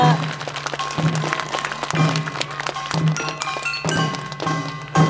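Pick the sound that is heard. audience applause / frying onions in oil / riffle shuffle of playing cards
audience applause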